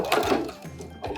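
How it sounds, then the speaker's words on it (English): A sewing machine stitches along the edge of bias binding on a V-neck neckline in a short, quiet run of rapid mechanical pulses. "we're gonna go over to the sewing machine and we are gonna sew on the very edge of the binding"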